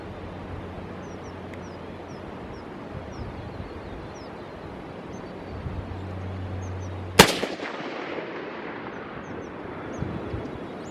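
A single sharp, loud rifle shot cracks out while the rifle is being zeroed at 100 metres, followed by a brief decaying echo over steady outdoor background noise.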